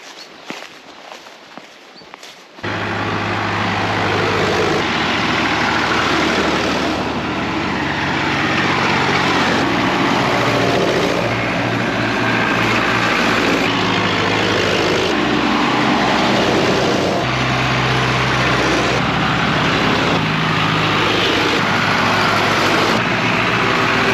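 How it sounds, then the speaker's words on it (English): Antique tractors drive past on a country road in the Yorkshire hills, a loud, broadband engine roar that bursts in after a quiet opening and keeps rumbling close by for the rest of the clip. "there's lots of antique tractors driving along"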